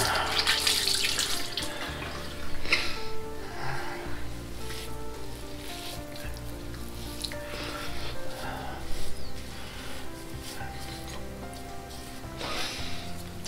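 Cold tap water runs into a sink while someone rinses after shaving with a razor, a continuous close splashing with louder surges as hands move through the stream.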